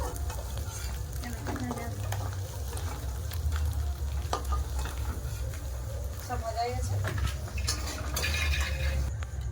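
Potatoes frying in hot oil with a continuous crackling sizzle, punctuated by the clink and scrape of a utensil against the pan as pieces are lifted out, with a voice talking over the kitchen sounds.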